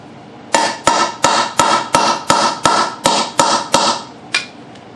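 A cheap hole cutter hammered through boat tarp, about a dozen sharp, evenly spaced metallic strikes at a steady rhythm, loud and close with no talk.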